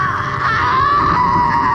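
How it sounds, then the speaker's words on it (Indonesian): A woman screams in pain in a film scene, a loud, sustained, strained cry that wavers in pitch without a break for the whole stretch. "Elvira kembali berteriak kesakitan."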